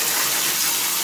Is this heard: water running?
yes